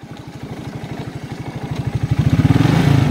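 A 1992 Quadrunner 300 ATV engine chugs in a rapid, even pulse while downshifting, the rhythm thickening and growing louder toward the end as the revs climb.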